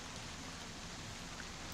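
A torrential downpour of rain makes a steady, dense hiss with no breaks, heard faintly throughout and with no voices over it.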